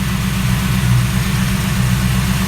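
A C10 Squarebody truck engine fitted with an aftermarket Bluetooth distributor idles loudly and steadily, a close, even low rumble with no other sounds.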